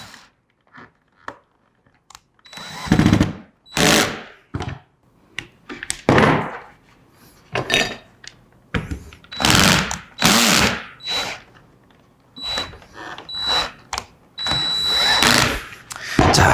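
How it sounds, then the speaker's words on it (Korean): An electric drill drives screws into a control panel during electrical wiring work, with repeated loud close bursts of whirring separated by pauses and handling clunks, and no talk. "그냥 이거는 전동 드릴로 사용하도록 하겠습니다"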